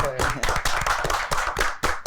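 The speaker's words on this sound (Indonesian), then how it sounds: "Mungkin sekali lagi tepuk tangan buat kalian ya." Brisk, irregular clapping from a small group rings out, with a voice mixed in among the claps.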